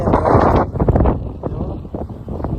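Strong dusty wind storm in Rajasthan buffets the microphone with loud, continuous rumbling gusts that rise and fall throughout, with no clear voices over the roar.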